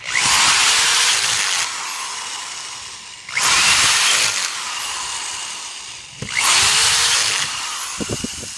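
A power driver tightens the pump head fasteners onto the motor of a 5800 pump, in three loud, close whirring bursts of a second or two each, separated by short pauses, with no talking.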